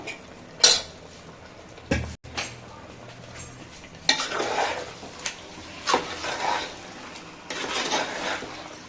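Marinated chicken for Hyderabadi dum biryani sautés in a pot, heard as repeated metal ladle scrapes and clanks against the vessel over a soft sizzle, in irregular bursts close by.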